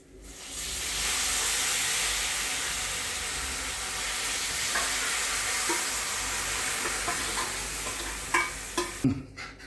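Dal is poured into hot spiced tempering, setting off a loud hissing sizzle that builds and then slowly settles, followed near the end by a few sharp clanks of a spoon against the pot.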